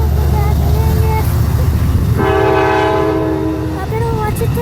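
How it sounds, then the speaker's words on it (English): Amtrak locomotive 457 passes Chatsworth, California, sounding a loud, sustained multi-tone horn blast over the heavy rumble of the train, with people talking nearby. "Honk, boys. 457. Okay, the locomotive said 457."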